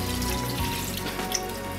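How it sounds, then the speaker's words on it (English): Chicken stock, about three cups, is poured into a pot of jambalaya, making a brief steady liquid splash and gurgle close by, with no talking. "we got 3 cups of our chicken stock. We're gonna pour this right on in"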